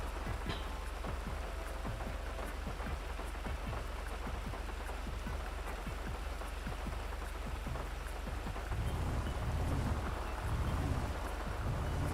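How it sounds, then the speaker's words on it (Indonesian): Steady heavy rain falls in the GTA V video game, a dense continuous hiss of drops on surfaces with a deeper rumble swelling near the end, and no voices. "berat hujan."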